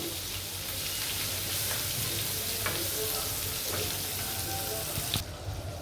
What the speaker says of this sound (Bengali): মাছটি আমি একটু কড়া ভাজা দিব